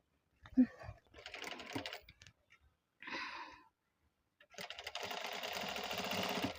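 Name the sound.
sewing machine stitching a round neck blouse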